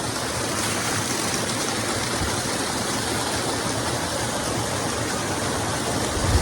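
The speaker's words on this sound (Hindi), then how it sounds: "असली वाटरफॉल जैसा तो यहाँ फील हो रहा है" A waterfall at a secret pool near Lakshman Jhula in Rishikesh roars with steady, dense rushing water, continuous and loud with no pauses.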